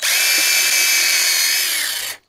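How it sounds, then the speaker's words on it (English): A handheld drill spinning a wire wheel grinds rust off a sheet metal finger brake, a steady loud high-pitched whirring scrape lasting about two seconds before cutting off abruptly. "I'm just cleaning it off with a drill now"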